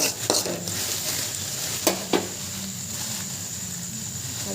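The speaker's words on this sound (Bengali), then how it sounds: "ভালো করে রান্না করে ভেজে নিই যে প্রেশার কুকারে যেগুলো সেদ্ধ করে রেখেছি কাবলি ছোলা আর আলু সেদ্ধ করে রেখেছি" Boiled chickpeas and potatoes fry in a pan with a soft continuous sizzle, broken by a few knocks of a spoon being stirred through.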